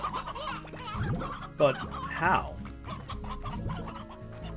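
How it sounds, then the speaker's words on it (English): Stony hens in the video game Slime Rancher clucking in quick bursts, fairly close, under a player's voice with game background sound. "Tabbies love the stony hens."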